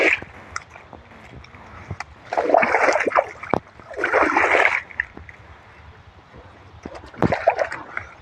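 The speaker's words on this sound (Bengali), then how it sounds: "চটি শুধু ধুয়ে নি।" Muddy slippers rinsed in water after a first trip to a field, with bursts of splashing and swishing at close range, separated by quieter stretches of faint dripping.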